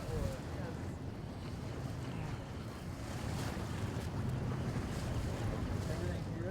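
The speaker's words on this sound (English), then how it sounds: "We got a boat coming up on your starboard." A boat approaches across open water near the Golden Rule peace sailboat, a low continuous engine rumble blended with wind buffeting and wave wash, fairly loud and steady throughout.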